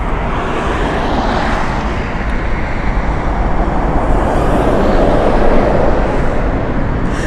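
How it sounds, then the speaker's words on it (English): Airliner touching down on the Heathrow runway, a loud, continuous roar of engines and rolling rush that builds slightly toward the end, with no voices over it. "Now that's a cushioned touchdown, isn't it?"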